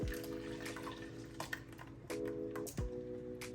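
Hot blended tomato sauce pours into a pot with a thick, wet liquid sound and a couple of splashy surges, close and fairly steady over a low background hum.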